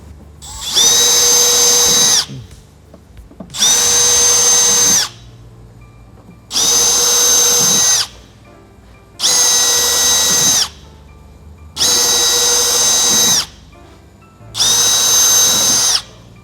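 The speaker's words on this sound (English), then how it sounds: "drilling out the OEM holes over here to 11mm" A power drill runs in six even bursts of about one and a half seconds each, enlarging factory holes to 11mm on a Hyundai i30 N-Line sedan rear, separated by short pauses, loud and close.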